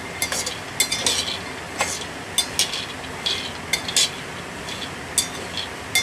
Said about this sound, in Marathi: पाव किलो शेंगदाणे घेतले आता ते खरपूस होईपर्यंत चांगले भाजून घेते